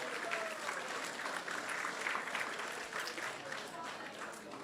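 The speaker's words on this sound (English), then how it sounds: "So let's give them a big round of applause." An audience applauds steadily and continuously, a dense, even wash of clapping from a crowd at a temple gathering that fills the whole stretch without pause.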